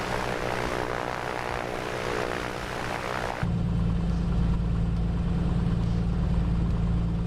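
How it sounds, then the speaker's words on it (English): A Piper Comanche 250 propeller engine in Microsoft Flight Simulator 2024 drones steadily, then shifts abruptly to a louder, lower, rougher throb partway through, with no talking. "I love this little airplane."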